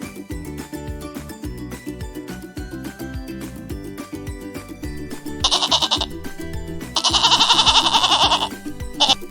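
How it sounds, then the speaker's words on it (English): A goat bleats in two bursts, the second louder and longer, over continuous bouncy children's music; no one speaks. "goat"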